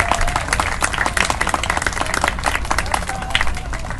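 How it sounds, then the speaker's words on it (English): An outdoor crowd at a camper van show gives a dense round of applause, steady clapping for a few seconds with faint voices mixed in. "So a round of applause for 91,"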